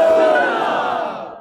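At a PTI Haqooq Sindh March rally in Kandhkot, a large outdoor crowd roars back a slogan in one loud, unified shout that fades away over about a second and a half.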